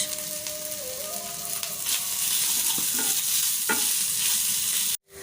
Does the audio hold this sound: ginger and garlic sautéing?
yes